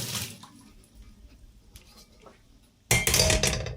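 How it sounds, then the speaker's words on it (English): Water dumped out of a steaming wok in a home kitchen: quiet clinks and drips, then a sudden loud rushing splash and pour near the end, with metallic rattling. "Dump out our water here."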